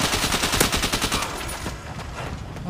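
Rapid bursts of gunfire crackle through a scrimmage, dense repeated shots in quick succession that thin out toward the end, fairly close and loud with no talk over them.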